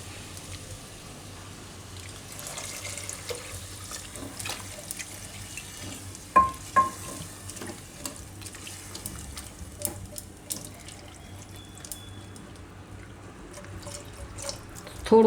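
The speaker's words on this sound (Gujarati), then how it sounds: "હવે આપણે એમાં નાખીશું પાણી" Water pours into a pot of corn and potato curry in a home kitchen, a steady close trickle running throughout with a few soft clinks of utensils partway through and no talk.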